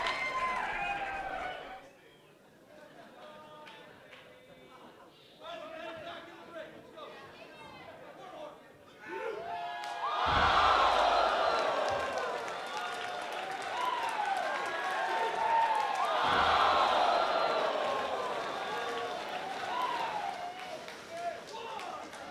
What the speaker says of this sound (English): This is a sold out crowd.